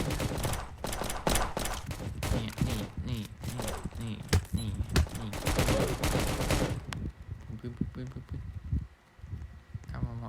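Gunfire in the Roblox game Prison Life comes as rapid, dense volleys of shots for several seconds, then stops. A player talks over the shooting.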